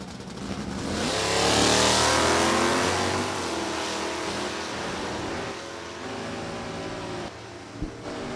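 Stock automatic drag cars at National Trail Raceway, among them an E-stock automatic Camaro, rev and launch with a loud rising engine roar that peaks early, then recedes into a steady fading drone.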